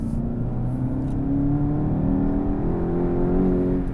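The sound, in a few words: manual Volkswagen GTI car accelerating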